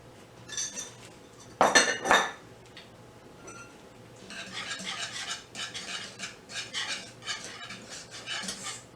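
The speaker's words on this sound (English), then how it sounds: "Just kind of keep it stirred, and you're going to stir this periodically throughout the cooking process." Shrimp and grits being stirred in a pot, rhythmic scraping and soft clinks of a utensil against the pot in repeated strokes, close and moderately loud, with a louder clatter early on.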